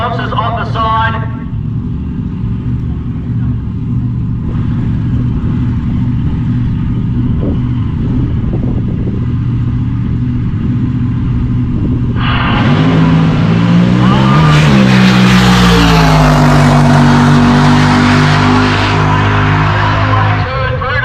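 The drag racing car 'Blown Income' idles with a deep, lumpy rumble, then its engine is revved hard into a loud, rising roar that swells and falls back as the throttle is worked, with speech running underneath.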